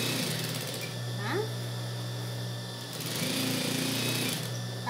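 A sewing machine runs a seam down the middle of fabric for a baby romper, a steady, fairly faint mechanical hum that continues for several seconds, with a brief high squeak partway through.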